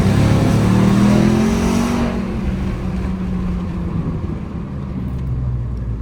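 A Ram TRX pickup truck rolls down a hill, its engine humming loud and close, with a rising drone that eases off and settles into a steady rumble and road noise.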